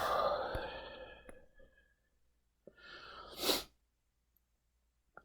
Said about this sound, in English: Apologize for all this sniffling.